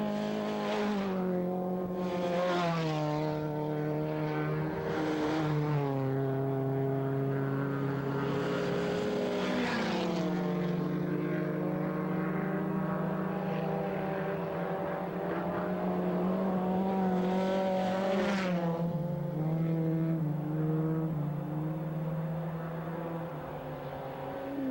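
A freshly prepared Corvair race car circles a track, its engine note rising and falling through gear changes as it passes, loud and sustained over nearly half a minute.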